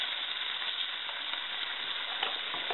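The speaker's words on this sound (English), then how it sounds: "the pork is already starting to brown and cook" Pork sizzles steadily while being stir-fried quickly in a hot pan, a dense, even hiss that holds at a constant level throughout with faint stirring scrapes.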